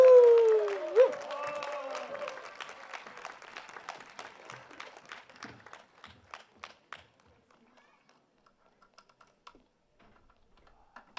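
An outdoor audience at a forest concert beside a temple applauds to welcome a singer-songwriter, starting right after a host's voice and fading gradually into scattered, faint claps.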